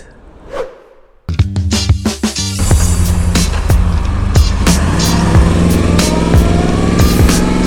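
A Yamaha R1 sportbike on a Singapore road: after a brief quiet stretch and a soft click, the engine bursts in loud and close, running steadily with rising, droning revs for the rest of the clip.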